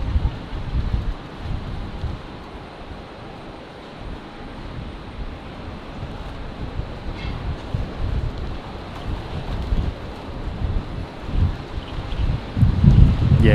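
Strong, gusty wind buffeting a microphone outdoors at Brisbane Airport, a loud continuous low roar that swells and dips with each gust and builds heavier toward the end, with no voices over it.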